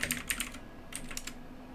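Quick bursts of keystrokes on a computer keyboard, a few close clicks at the start, then a pause before another short run of taps.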